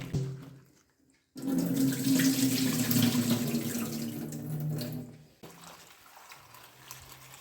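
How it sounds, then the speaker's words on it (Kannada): Tap water running into a vessel to rinse cut breadfruit pieces, a loud steady gush lasting several seconds, then fading to quieter trickling and handling. "ಪುನಃ ಈ ರೀತಿ ನೀರು ಹಾಕಿಕೊಳ್ಬೇಕು."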